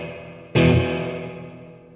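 A Boss Katana guitar amp's spring reverb is jolted once, giving a sudden loud crash that rings on in a long, slowly fading metallic wash, alone with no voices.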